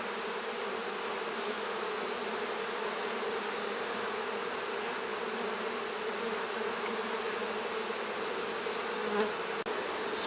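A dense swarm of honeybees buzzes on an open hive frame during a mite-count inspection, a close, continuous hum of many wings that barely changes from start to finish.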